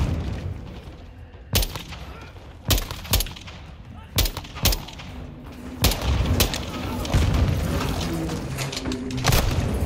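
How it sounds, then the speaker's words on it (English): Grenade blasts and gunfire from a Modern Warfare II battle. About eight sharp, loud booms hit at irregular intervals over a rumbling firefight, with voices talking in between. "They're launching grenades!"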